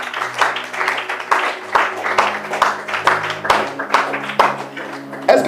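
A church congregation bursts into rhythmic applause, with quick repeated claps and cheering voices, while steady organ-like tones hold underneath.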